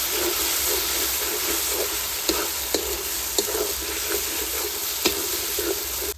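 Tomato and Kashmiri chili fry in a pan for chicken khichuri, giving a steady bright sizzle with occasional sharp clicks from a spoon stirring, close and alone with no voices.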